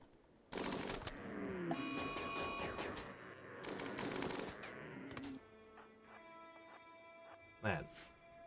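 Rimworld colonists firing on a Thrombo during a hunt: dense bursts of rapid gunfire and impacts over game music, with a loud burst through the first few seconds, then quieter sparse shots and one sharp blast near the end.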